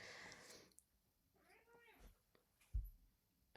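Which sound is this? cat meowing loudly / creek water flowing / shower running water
cat meowing loudly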